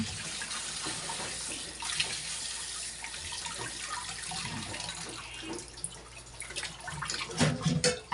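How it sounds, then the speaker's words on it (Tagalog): Running tap water splashes steadily over a red snapper being rinsed, with occasional handling sounds and louder splashing near the end. "Hugasan ko lang siyang maigi"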